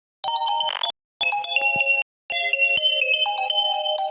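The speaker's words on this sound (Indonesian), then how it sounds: "ini ada yang telepon lagi nih" A phone ringtone for an incoming call plays loud and close, a bright electronic melody in three bursts separated by short pauses, with no voices over it.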